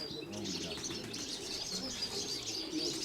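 A bright, stocky pigeon coos with soft low calls, joined by faint chirps and light fluttering against a quiet background, with no talking.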